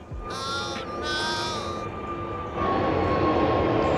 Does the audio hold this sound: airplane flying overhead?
yes